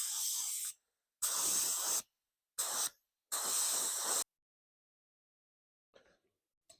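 A spray gun lays base coat on the doors of a 1970 Dodge Challenger in B5 Blue. Four bursts of loud, close hissing spray are broken by short pauses, followed by a faint clatter at the end.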